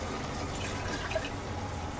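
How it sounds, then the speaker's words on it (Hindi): Water poured into a cooking pot for a paneer and vegetable rice pulao, a steady soft trickle and splash heard up close and alone, without any talking. "छोटा कप मैंने डाला है तो उस हिसाब से मैं पानी डालूंगी"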